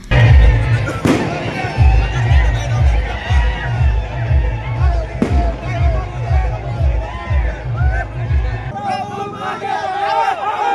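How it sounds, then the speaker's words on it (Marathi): Firecrackers bursting as BJP workers celebrate an election victory in Barshi taluka: a few sharp, loud bangs stand out over steady rhythmic low thumping and a noisy crowd. "भाजप कार्यकर्त्यांनी शहरासह तालुक्यात ठिकठिकाणी फटाके फोडून जल्लोष विजयोत्सव साजरा केला"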